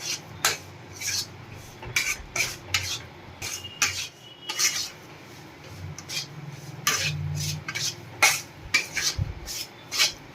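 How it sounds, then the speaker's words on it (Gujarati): Flour for sukhdi is stirred and roasted in a pan, making repeated scraping, rasping strokes in an uneven rhythm, close by and fairly clear against quiet background. "આપણે આ લોટને એકદમ હલાવતા જઈને શેકી લેવાનો છે"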